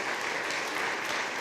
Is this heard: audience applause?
yes